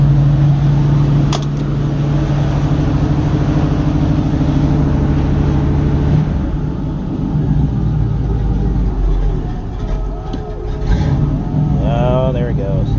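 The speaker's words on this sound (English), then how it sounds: "Got you guys a cold start." Fox body Ford Mustang engine idling after a cold start, a loud steady low rumble that holds through the whole stretch, with some brief rattles and a faint whine near the end.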